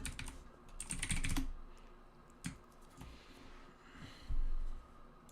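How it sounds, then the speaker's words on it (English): Someone types on a computer keyboard during an online game tournament stream, with quick bursts of close, crisp key clicks that come in uneven clusters and pauses. "I suggest you stop typing and start playing"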